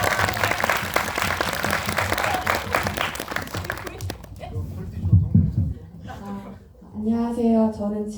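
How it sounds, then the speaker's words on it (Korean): An audience at a film screening Q&A gives a burst of applause that lasts about four seconds, then fades as a person begins speaking. "한번 박수 한 번 더 부탁드립니다."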